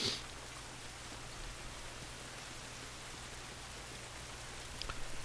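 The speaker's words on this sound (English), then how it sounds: "This rain ain't gonna do us any good." Rain falls in The Last of Us game as a faint, steady hiss that stays even throughout, with no voices.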